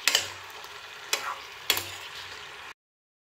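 Vegetables with turmeric, cumin powder and sugar are stirred in a pan, with three distinct scraping strokes over a soft, low sizzle before the sound stops abruptly.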